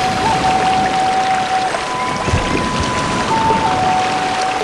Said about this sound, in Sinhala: මෙතනට රාවණ ඇල්ල කඩා හැලනවා ලස්සනට පේනවා.